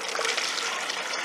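Viscous comfrey liquid poured into a small pot at an allotment, a brief continuous gushing pour, close and steady.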